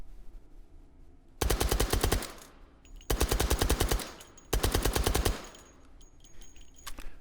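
A suppressed UMP45 firing .45 ACP rounds in a VR game lets off three rapid automatic bursts of muffled, clattering shots, each lasting about a second, with short quiet gaps between them.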